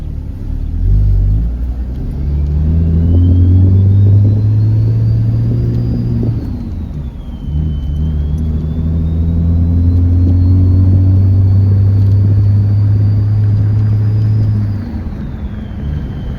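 A 6.7 Cummins diesel truck with a G56 manual transmission pulls away from a stop and accelerates through the gears, its deep exhaust rumble rising and dropping at a shift, with a whistling turbo spool carried above the drone.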